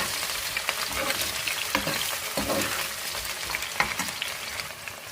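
Onion and paneer frying in hot oil with bay leaf and cumin for veg biryani, a loud, continuous crackling sizzle punctuated by sharp pops and occasional stirring scrapes.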